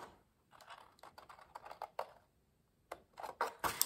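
Paper being cut for a DIY secret box made from a 30x30 sheet: a series of crisp, dry snipping bursts in irregular clusters, close and fairly quiet, with short pauses between and no talking.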